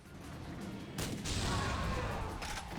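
A grenade launcher fires in the Yakuza Dead Souls video game: a muffled boom lands about a second in and swells into a sustained, rumbling roar of blasts and gunfire that fades slightly toward the end.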